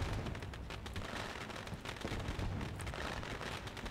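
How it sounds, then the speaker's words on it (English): Dense, crackling bursts of fireworks in a racing video game at Eldora Speedway pop continuously at moderate volume, sounding like a rapid barrage of small explosions. "as the fireworks go off, and they're quite loud"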